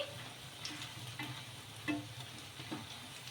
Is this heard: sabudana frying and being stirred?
yes